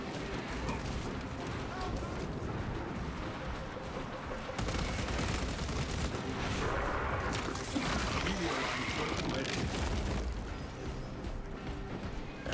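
Rapid, sustained Bolt Carbine fire in Space Marine 2 rattles on with mechanical clanks and impacts, fairly quiet overall, while a voice talks over the shooting.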